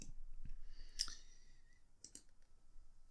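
A computer mouse gives a few faint, crisp clicks while navigating a web page, quiet and close against near silence.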